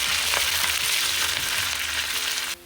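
Mustard seeds, chopped shallots and dried chillies sizzle and spit steadily in hot coconut oil for a Kerala black chickpea curry, a close, continuous frying hiss that cuts off abruptly near the end.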